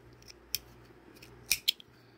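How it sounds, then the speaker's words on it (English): Scissors cutting at close range: three sharp, crisp snips spaced unevenly over about two seconds, with quiet room between them and no talking. "They're good in a pinch. Those scissors are."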